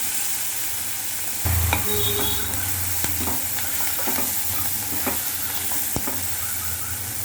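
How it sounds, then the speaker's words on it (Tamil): Onions sauté in plenty of oil in a pan for a squid gravy, with a constant crackling sizzle and scattered spoon scrapes and knocks. "இதனால் வதங்கிடுச்சு, வெங்காயம் வதங்கிடுச்சு."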